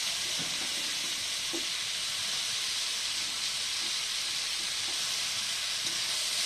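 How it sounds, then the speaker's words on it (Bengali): Tomatoes just added to browned onions in a pan give a continuous bright hissing sizzle, steady and fairly loud throughout with no talking. "পেঁয়াজটা ভাজা ভাজা হয়ে গেছে, এবার টমেটো দিয়ে দেবো।"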